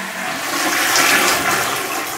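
A toilet in a newly fitted modular bathroom flushes loudly and close, a steady rushing swell of water that peaks and then eases, with no voices.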